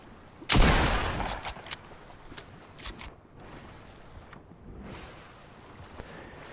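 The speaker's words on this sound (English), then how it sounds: "I'm gonna shoot it with a shotgun." Shotgun fire in the Fortnite battle royale video game: a loud close blast followed by several sharp, quick shots over a few seconds, then quieter game ambience with a couple of softer whooshing sweeps.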